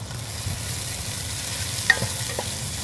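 Onions and garlic fry in olive oil over medium heat, a steady sizzle with a soft hiss throughout, a faint clink of a utensil partway through, no talking.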